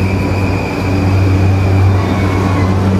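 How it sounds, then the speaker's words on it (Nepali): An empty train carriage rumbles steadily while running, with a low continuous drone, faint high whine and broadband rattle, loud and close with no talk. "यो त अस्तिको जस्तै खाली ट्रेन पो रहेछ यार, कोही पनि छैन भित्र यार"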